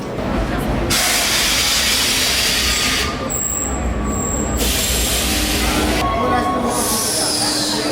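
A metro train arriving at a station in Rome rumbles in with a broad steady roar, high-pitched wheel squeals and hissing rising and fading over the noise.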